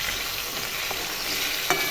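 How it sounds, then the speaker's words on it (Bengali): Boal fish frying in hot oil in a pan, a steady crackling sizzle with a brief scrape or turn near the end, heard alone without speech. "দেখুন এই পিঠ ভাজা হয়ে গেছে"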